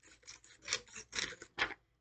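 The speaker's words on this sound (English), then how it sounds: "We can take our scissors and maybe we want to make it into a circle." Scissors snip through a paper rectangle to round it into a circle, a run of close, crisp cuts in short uneven bursts.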